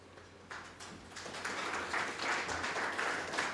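Audience members clap after an industry talk at a telecom leadership forum, starting sparse and building into fuller, steadier applause from a crowd over a few seconds, moderately loud.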